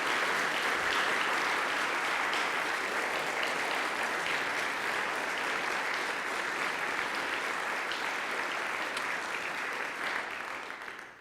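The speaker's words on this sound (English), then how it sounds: "Let's give these guys a round of applause." Long, even applause from an audience at a 2017 State of the City address honoring newly promoted police officers and the police chief, a dense continuous clapping that carries for over ten seconds and fades slightly at the close.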